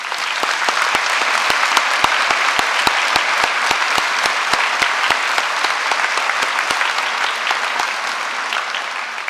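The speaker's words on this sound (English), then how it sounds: "Please join me in a round of applause celebrating the brave, inspiring, and talented students we have the honor to teach and serve" A large audience at a M State Moorhead commencement ceremony applauds in a dense, even wash of clapping that holds steady throughout, with no voices over it.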